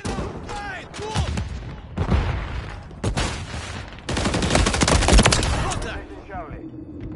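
Sustained automatic gunfire in Call of Duty: Modern Warfare 3, loud and close, coming in dense bursts with brief gaps, while a voice calls out briefly.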